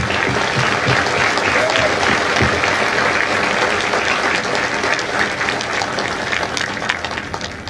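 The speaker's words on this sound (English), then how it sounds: "please join me in a round of applause for the families of India Company" A large crowd at a Marine Corps recruit graduation ceremony in San Diego gives a long, loud, continuous round of applause for the families, dense clapping holding steady throughout.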